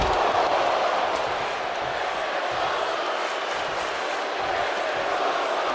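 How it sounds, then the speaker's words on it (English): A video game arena crowd in WWE 2K24, set at Mechanics Bank Arena in Bakersfield, California, roars and cheers in a steady, dense wall of noise throughout, loud and continuous with no breaks. "Certainly a lively crowd when they need to be here in Mechanics Bank Arena in Bakersfield, California"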